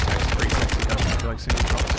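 Rapid automatic gunfire in Call of Duty Modern Warfare, loud and close, a steady stream of shots with a brief break before firing resumes.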